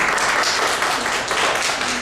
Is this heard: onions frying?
no